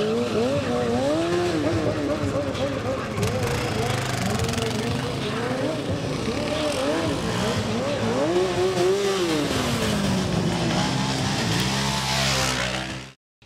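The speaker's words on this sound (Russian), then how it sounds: "Стантрайдеры из Самары и Тольятти на квадроцикле и байках устроили зрелищное шоу в центре города" Stunt riders on a quad bike and motorcycles perform a show in a city centre, engines revving and rising and falling in pitch continuously and loudly, with tire squeal and a crowd murmuring beneath.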